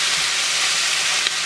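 Pizza-burger filling stirred in a pan over a high flame, giving a steady, close, even sizzle of frying with faint stirring and no voices.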